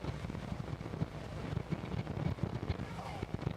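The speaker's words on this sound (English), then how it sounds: "it's kind of windy today." Wind buffets the microphone outdoors at the Louisiana Shrimp and Petroleum Festival boat blessing, a constant low rumbling roar with gusty thumps that partly masks faint speech.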